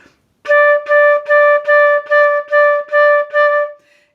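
Flute playing eight even, detached notes on a single D pitch, clean and close, each note evenly spaced with short gaps in a steady straight rhythm.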